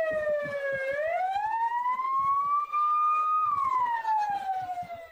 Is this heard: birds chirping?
no